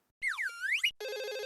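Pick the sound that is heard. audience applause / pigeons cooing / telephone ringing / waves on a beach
telephone ringing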